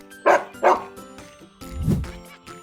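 A cartoon farm dog barks twice in quick succession, close and clear, followed by a lower, softer vocal sound, with no talk over it.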